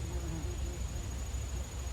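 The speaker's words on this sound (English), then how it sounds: "Oh, there's a bee right there." A bee buzzes close by outdoors, a steady low drone lasting the whole moment, fairly loud over a faint background hum.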